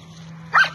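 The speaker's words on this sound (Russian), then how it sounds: "Вот здесь такой щенок есть" An injured puppy, hit by a car and unable to move its hind legs, gives a single short, close whimper against a steady low hum.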